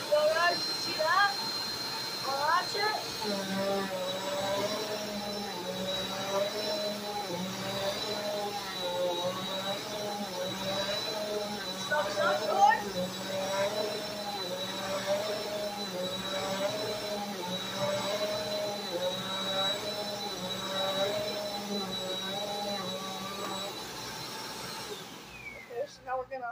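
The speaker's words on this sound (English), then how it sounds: "So we're going to finally turn it on." A Bissell CleanView Compact vacuum cleaner runs with a loud, steady motor roar and a high whine, while voices speak over it, before it cuts off near the end.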